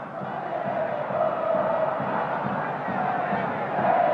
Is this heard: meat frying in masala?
no